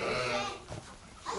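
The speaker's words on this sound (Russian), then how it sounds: "Видишь, какие барашки? Это бараны." Sheep at a horse farm bleating, one long wavering call heard close up and fairly loud, with another bleat beginning at the end.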